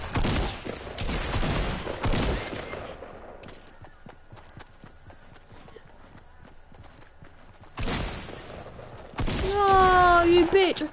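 Shotgun blasts in a video game fire in rapid bursts, loud and close, along with game noise and a stretch of quieter clatter.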